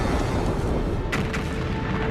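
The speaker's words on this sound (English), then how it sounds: "Just a few million years after the first stars formed, some of them exploded. Wham!" A supernova explosion is rendered as a sound effect: a loud, dense roaring rumble with a couple of sharp bursts in the middle, filling the whole moment with no talking.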